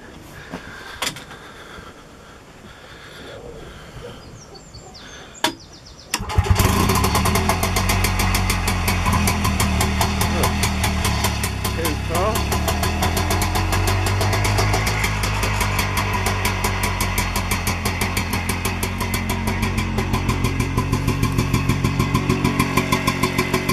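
A few quiet clicks and clunks, then the small two-stroke engine of an InvaCar 12e invalid carriage cranks and catches, settling into a loud, steady, rhythmic idle that chugs on close by.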